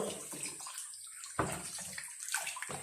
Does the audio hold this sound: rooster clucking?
no